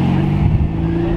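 A supercar engine hums and revs in a short, loud, close burst, with a deep steady drone and no talk over it.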